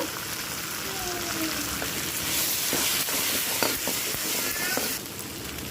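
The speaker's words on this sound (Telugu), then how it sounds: "అల్లం వెల్లిపాయ పేస్టు తగినంత వేసి బాగా మగ్గించుకోవాలి" A tomato and onion paste with spices sautés in a pan, crackling and sizzling steadily up close, with a few clinks and scrapes of stirring.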